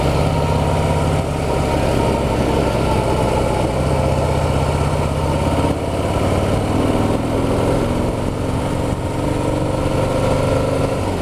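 A Harley-Davidson Heritage motorcycle engine rumbles steadily up close while riding on a bend, its deep throb shifting pitch as it drops from fourth to third gear.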